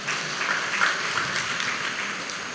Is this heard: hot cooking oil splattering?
no